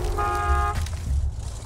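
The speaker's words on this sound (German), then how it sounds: "Ja, ich wollte nicht hupen." A single short vehicle horn honk sounds in the video game Borderlands 2, a bright blaring tone lasting about half a second over a low engine rumble that carries on after it.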